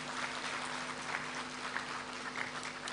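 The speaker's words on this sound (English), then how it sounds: "Let's welcome her with a round of applause." Audience applause fills a matriculation ceremony hall for an onboarding programme, a steady, fairly quiet wash of many hands clapping at a distance, with faint hum underneath.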